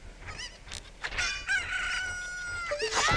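Cucco chickens cluck and squawk in Zelda: Ocarina of Time, a series of close, loud, pitched fowl calls and crows that come in quick succession.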